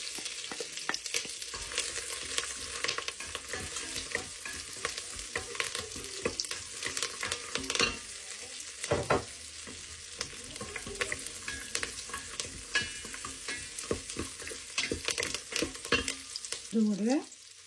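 Cashews, cardamom, cloves, cinnamon, curry leaves and other spices fry in oil for a coconut milk biryani. A steady close sizzle continues throughout, broken by frequent spoon-scraping stirs, with no talking.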